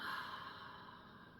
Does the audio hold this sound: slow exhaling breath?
yes